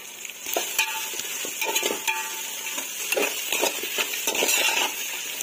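Onions sautéing in a pan with mustard seeds and green chillies for a Marathi potato bhaji, giving a steady close sizzle broken by repeated scrapes and clinks of a spoon stirring against the pan, with no voices.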